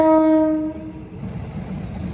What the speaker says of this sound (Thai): เดี๋ยวเราจะขึ้นคันนี้นะครับนี่ ขึ้นคันนี้เลยคันนี้รถไฟบ้านนาขวางนะครับ